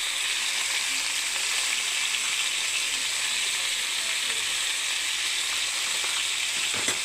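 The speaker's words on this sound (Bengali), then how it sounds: "এবার আমি নাড়বো সবজিটাকে বন্ধুরা।" Salted vegetables frying in a hot pan while being stirred, a steady loud sizzle that stays even throughout, with faint scraping of the stirring utensil and a small clack near the end.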